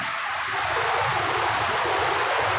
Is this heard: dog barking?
no